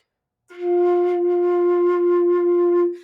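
One low, mellow flute F in the lower octave, held steadily for about two and a half seconds, close up with no other sounds.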